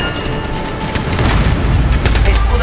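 A loud, rumbling explosion in the sci-fi action game Anthem booms on for several seconds with crackling bursts layered over it, close and heavy.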